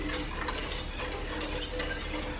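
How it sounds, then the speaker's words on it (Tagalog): A homemade underarm whitening mixture is stirred round and round in a container, giving a steady, close scraping and clicking texture with faint irregular taps throughout, no voices. "Hahaluin lang natin ng hahaluin. Papaikot-ikutin."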